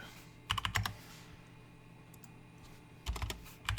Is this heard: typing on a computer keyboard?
yes